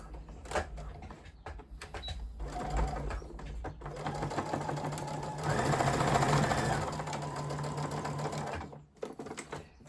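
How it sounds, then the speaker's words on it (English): A sewing machine running a straight top stitch around a reusable face wipe made from old T-shirt fabric, a steady mechanical whir that holds through the whole stretch and swells louder midway, with no talking. "My machine's set to straight stitch, and then I'm just going to top stitch all the way around."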